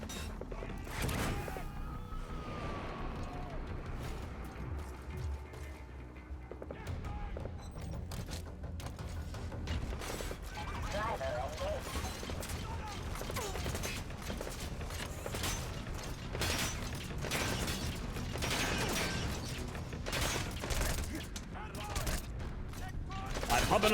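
An enemy dumping a full magazine in the video game Metal Gear Solid V, rapid overlapping gunshots and clattering mechanical noises throughout, fairly quiet, with someone talking intermittently.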